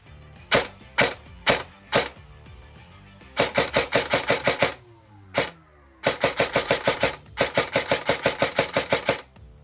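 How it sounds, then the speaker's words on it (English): A Zion Arms airsoft gun dry firing in bursts: a few single sharp clicks, then rapid runs of loud, close mechanical shots with brief pauses between them. "So I'm going to shoot just a couple of rounds real quick that are dry firing, just so we can get a good sound from the gun."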